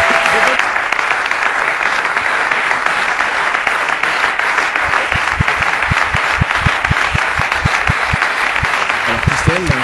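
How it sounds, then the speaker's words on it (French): An enthusiastic studio audience at the close of a television broadcast applauds loudly and continuously, dense clapping mixed with crowd noise, and a rapid run of rhythmic claps emerges near the end. "sous les acclamations de notre public passionné"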